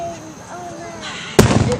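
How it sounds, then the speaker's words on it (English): A firework bursts with a sharp loud crack, followed by crackling pops and a second smaller bang, close by, after quiet voices. "It's fireworks."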